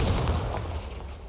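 A fiery Confringo blast spell erupts in the Hogwarts Legacy video game, a single punchy boom that fades quickly into a short rumbling tail.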